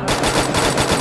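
Rapid automatic gunfire from the mobile battle royale game Free Fire, a loud, dense burst of shots that runs continuously through the short moment with no talking.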